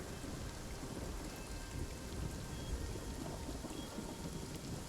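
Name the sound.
rain and thunder in the video game Mage of Nightingale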